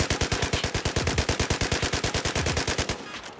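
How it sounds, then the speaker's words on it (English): Light machine gun in a DICE shooter video game fires a long, rapid, evenly spaced burst of loud shots, close and alone, stopping shortly before the end with a brief ringing tail. "Do not move your feet while firing this weapon."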